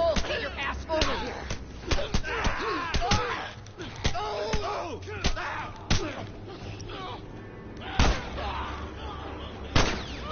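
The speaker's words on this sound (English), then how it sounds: "Just keep on shooting them like that." Gunfire in The Last of Us, sharp shots repeating at irregular intervals through roughly ten seconds of game sound, with a voice talking over the action.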